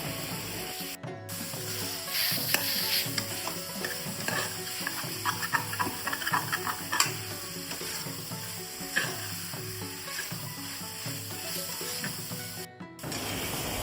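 Onions sautéing in a pan with a teaspoon of salt, cooked while making Kerala-style beef varattiyathu; a steady close sizzle with frequent scraping and clinking stir strokes throughout, with no talk.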